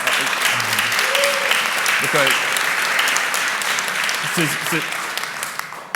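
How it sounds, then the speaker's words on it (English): Audience at a community town hall claps steadily, a close, continuous wash of many hands that tapers slightly toward the end, with a voice speaking briefly over it. "that was like a mini applause for"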